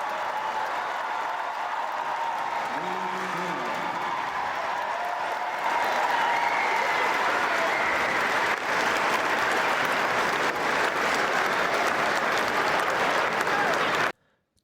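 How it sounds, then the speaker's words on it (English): Loud sustained applause and cheering from a tennis crowd at a Davis Cup tie between Ireland and China, a dense wall of clapping that swells and holds for over ten seconds before cutting off abruptly. "This was probably the loudest that the crowd was the whole weekend."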